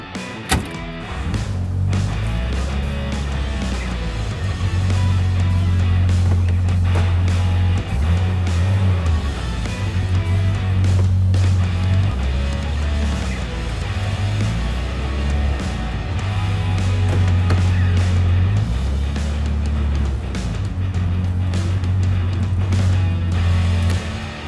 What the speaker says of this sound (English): Start it up, we'll drive it back and forth to settle the suspension